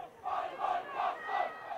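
Kelston Boys supporters singing and chanting behind the western goalposts at a school rugby match, a distant crowd chant in repeated rising phrases, with no talk over it.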